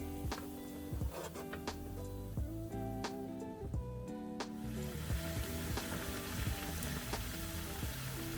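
Kefir flatbreads fry in a hot pan, giving a steady, quiet sizzle and crackle of oil with scattered small pops running throughout.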